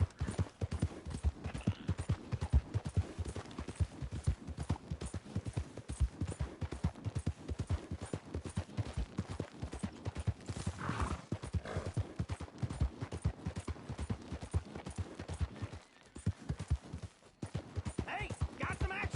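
Horse hooves clip-clopping at a steady rhythmic gait in Red Dead Redemption 2, running continuously and fairly loud over game ambience, with a rider's voice heard briefly.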